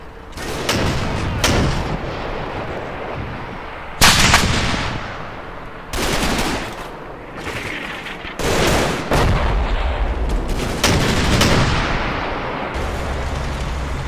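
Gunfire in the WWII game Combat Mission Market Garden: loud, repeated volleys and heavy bursts of shots that crack out in clusters and then hold as a steady, close barrage of battle noise.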